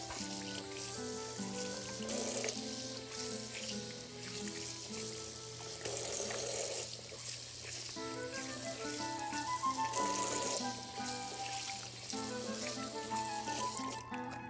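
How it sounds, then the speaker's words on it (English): Cold tap water runs steadily over tripe being washed in a kitchen sink, a continuous faint splashing stream with soft shifting gurgles as the pieces are handled, under a low background tone. "Make sure you wash them with cold water because we don't want to pre-cook the tripe."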